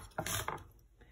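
A knife scraping food inside a stone molcajete (lava-rock mortar) with steak, a few short gritty scraping strokes back and forth, close and fairly quiet.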